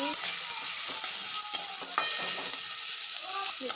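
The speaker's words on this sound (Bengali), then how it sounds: "ভালো করে ভাজা হচ্ছে একটু ব্রাউন ব্রাউন কালার হলে" Chopped onions sizzle in hot oil in a pan for a spiced okra and potato curry, a steady dense hiss broken by occasional scrapes and clinks of stirring, close and continuous with no talking.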